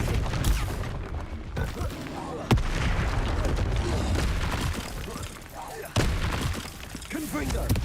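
Spell effects from Hogwarts Legacy, with Confringo and Expelliarmus blasts landing as sharp booming bursts over continuous dense combat noise, while a voice calls out spell names throughout.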